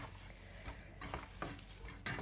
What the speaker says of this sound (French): Donc on malaxe.